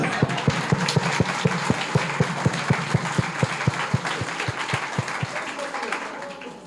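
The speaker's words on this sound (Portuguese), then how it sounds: "vamos dar um aplauso a elas" Rhythmic hand clapping in a church, steady and moderately loud, about twenty claps spread over several seconds, with a crowd murmur and background noise underneath.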